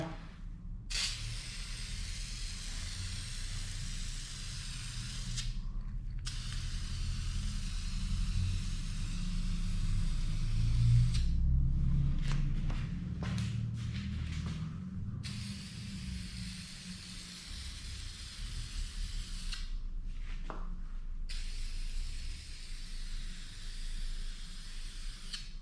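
Aerosol can spraying wrinkle black paint onto engine bay piping of a Mitsubishi Evo X, several long steady hissing passes separated by brief pauses and a few quick short bursts, close and fairly quiet, no speech.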